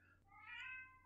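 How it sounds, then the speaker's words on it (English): A house cat gives a single drawn-out meow, rising then falling, fairly quiet against faint room hum with no talking. "There's my cat."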